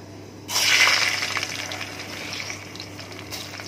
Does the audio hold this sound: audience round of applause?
no